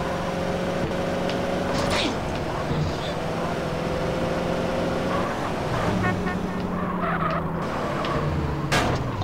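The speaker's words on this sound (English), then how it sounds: "this drifting mechanic sucks" Car drifting and skidding in the video game GTA San Andreas, with steady engine drone and tyre squeals through the clip, plus game voices and music underneath.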